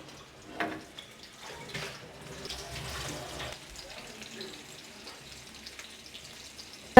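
Fish dropped into hot oil in a pan for a Tamil fried fish gravy, giving a soft crackling sizzle with a few bursts and spatters that trail into a quieter, steady fizz.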